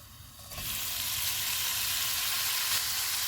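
Minced meat goes into hot oil with garlic and starts sizzling loudly. A steady, close crackling hiss of frying follows, with light stirring and no speech.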